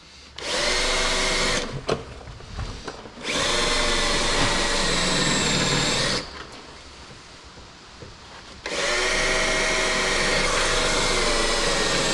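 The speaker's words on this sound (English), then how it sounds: "So there's all our spot welds drilled." A power drill bores out spot welds on a car's rocker panel in long loud whining bursts, with two short pauses between them filled by quieter shop noise.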